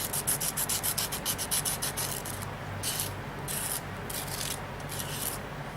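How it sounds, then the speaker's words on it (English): A drawing pencil point is rubbed on a sanding board in quick, rhythmic scratchy strokes, then slower, longer scrapes, close and fairly soft, with no talking. "then you can use your board, your sanding board"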